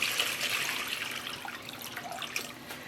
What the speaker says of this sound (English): In my shoebox here, I'm adding 8 cups of water.